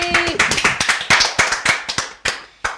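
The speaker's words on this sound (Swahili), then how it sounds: "haya makofi ya the Just Mark family" A group claps for a family on a Kikuyu-language show, a burst of quick, sharp, uneven hand claps close by that rises and tapers off in short waves with brief gaps.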